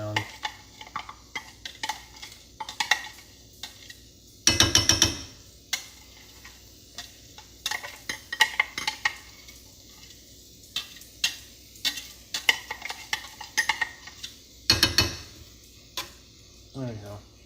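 Shallot is stirred in a sizzling pan, with scattered utensil clicks and scrapes against a soft, steady sizzle, plus a couple of louder clattering bursts; a voice talks intermittently over it.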